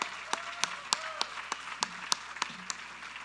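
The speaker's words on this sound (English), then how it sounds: "Can everybody please give a round of applause for Mr. Fred Tavill, Philip's dad?" Scattered, sparse claps at an anniversary gathering, individual sharp hand claps spaced irregularly over a quiet room with a faint steady hum beneath.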